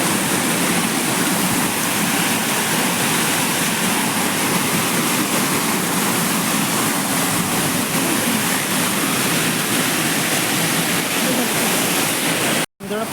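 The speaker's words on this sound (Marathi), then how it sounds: "पाणी दाखवतो तुम्हाला किती येतो." Water rushes over rocks in a stream at night in the Konkan, a loud, steady broadband roar close to the microphone that runs unbroken for the whole stretch, cut by one brief dropout near the end.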